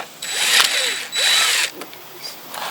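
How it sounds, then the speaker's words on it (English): A power drill whirs in two short bursts up close while removing fasteners from a Ford Explorer windshield pillar and cowl, each spinning up and winding down, with a brief gap between. "All right, have a drill here."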